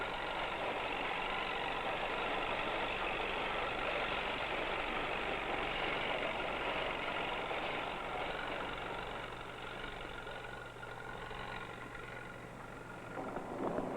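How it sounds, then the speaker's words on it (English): A combine harvester engine drones steadily and loudly, easing slightly in volume toward the end, with no voices. "If only the combine would work faster."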